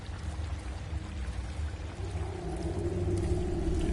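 In the Skyrim game world, water flows and pours steadily with a dense rushing wash that swells slightly louder toward the end, heard alone without talk.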